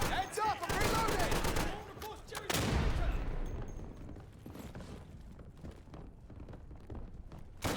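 Rapid bursts of gunfire from a video game set at Dunkirk crackle loud and close at the start, then thin into scattered distant shots and mechanical clicks, with a voice talking over parts of it.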